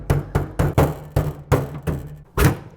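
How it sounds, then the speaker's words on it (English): A hammer knocks out a sawn section of steel firewall on a 1977-1986 Jeep CJ: seven sharp, hollow metallic blows in a fairly even rhythm, close and moderately loud, with no talking. "We'll take a hammer and kind of knock everything out."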